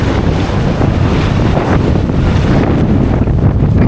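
Strong monsoon wind at sea roars and buffets continuously against the microphone from a boat, mixed with rushing water and waves, loud and unbroken with no voices.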